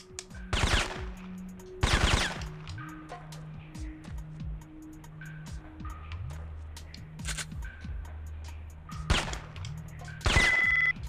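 Bursts of gunfire from shooting in the PlayStation game Syphon Filter, loud broadband volleys at about 0.5, 2, 9 and 10.5 seconds over a steady tonal game soundtrack, with no talk.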